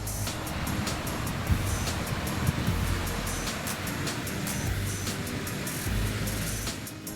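Ocean waves surge and break steadily on the beach at Pangumbahan, Ujung Genteng, a continuous broadband wash with several louder crests swelling through, close and fairly loud with no voices.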